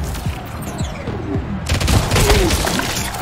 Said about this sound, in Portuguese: He shoots him down.